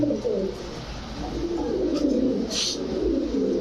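Low, rolling pigeon coos repeat steadily up close, with a few faint higher chirps in the background.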